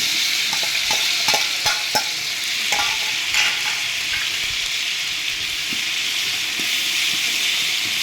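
Half a kilo of finely chopped tomatoes sizzling and frying in a pot for chicken biryani cooked over a wood-fired clay stove, a steady loud hiss broken by a few sharp stirring scrapes early on, with no voices.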